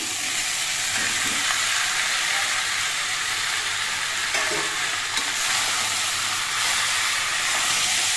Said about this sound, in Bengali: এবার এর মধ্যে ভেজে রাখা সবজিগুলো দিয়ে দিচ্ছি।